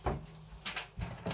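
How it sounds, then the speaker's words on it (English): A door pushed shut indoors, giving a few soft, fairly quiet knocks and thuds of wood over about a second, with no talk. "Can you shut the door behind?"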